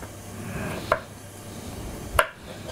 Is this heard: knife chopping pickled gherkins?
yes